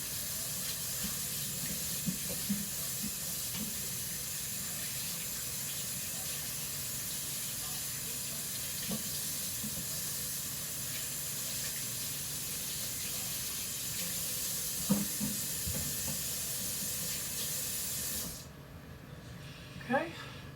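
Tap water runs steadily into a kitchen sink while hands are washed, a broad continuous hiss with small splashes and clatters, ending abruptly as the faucet shuts off near the end; no one speaks.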